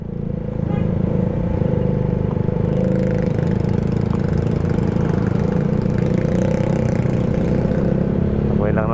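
A motorcycle engine idles nearby, a loud steady low rumble that runs unbroken and alone, with a faint higher whine near the end.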